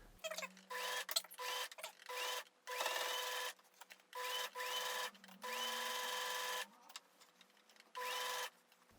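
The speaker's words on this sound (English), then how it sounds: "The machine might sound like it's having an issue when it goes over the seam" Sewing machine stitching fabric for handmade merch, running in repeated bursts of a second or so with short pauses between, a close, steady mechanical whir that cuts in and out.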